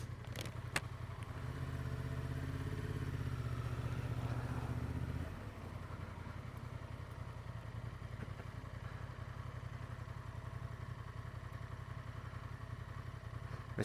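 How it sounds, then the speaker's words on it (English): A woman rides a motorcycle through floodwater, its engine droning loud and close for about five seconds before dropping to a lower, steadier hum as it moves on, with no speech. "Watch that lady on the bike come sailing on through."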